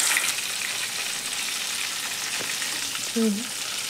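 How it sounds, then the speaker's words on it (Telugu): A piece sizzles steadily in hot oil that was previously used for frying chicken, a continuous close, even crackle throughout with a brief faint tonal squeak near the end. "ఆయిల్లో వేడి ఆయిల్లో ఈ పీస్ వేసేసాను."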